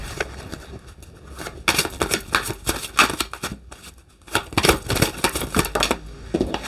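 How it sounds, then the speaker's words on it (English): Tarot cards are shuffled in quick riffling bursts, crisp flapping and snapping, repeated several times close up with brief pauses between. "No, we'll shuffle actually."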